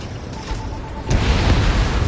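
An enemy vehicle blows up in the combat flight game Ace Combat 7, a deep booming burst that swells about halfway through and then holds as a loud, rumbling roar with no voices.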